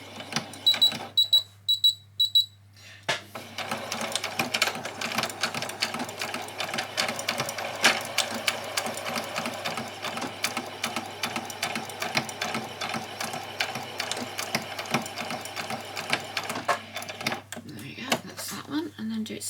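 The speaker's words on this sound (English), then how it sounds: "just run this backwards and forwards underneath your needle several times" A domestic sewing machine runs a steady stitching whir for a long stretch as fabric for fairy wings is fed backwards and forwards under the needle, over fine wire. A voice talks over the machine throughout.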